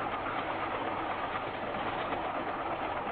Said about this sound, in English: the train couldn't be doing over 80